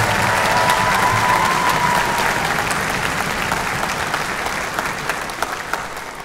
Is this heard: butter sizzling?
no